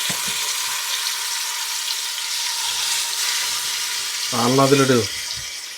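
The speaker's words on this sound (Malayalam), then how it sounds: "എണ്ണ ചൂടായി ചിക്കൻ ഇട്ട് കൊടുക്കാവേ" Chicken pieces fry in hot oil with a steady, close sizzle and hiss throughout, and a voice speaks briefly near the end.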